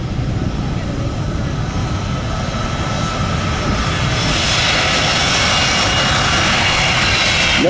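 A C-17 military transport jet taxis at an airshow, its engines whining and roaring loud and steady, the noise building toward the end, with a voice faintly present under it.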